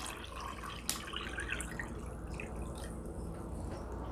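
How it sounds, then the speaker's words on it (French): Water poured into an Estonian MRE combat ration pouch, a steady trickling and dripping pour with a small splash early on, close and fairly quiet. "Donc, on rajoute de l'eau."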